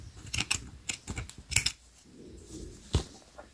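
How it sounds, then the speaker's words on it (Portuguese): Scissors snip off the excess acrylic yarn on a small crocheted baby moccasin, giving several short, crisp cuts close up with quiet pauses between them and no voice over them. "E agora é só cortar aqui o excesso."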